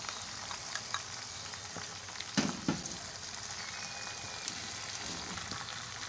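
Tomatoes, ginger, garlic and spices fry faintly in a pan with a soft continuous sizzle, plus a couple of brief stirring clatters midway.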